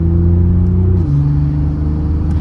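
BMW Z4 with a loud aftermarket intake, a deep steady engine drone close up, the pitch stepping down once partway through, with no talking.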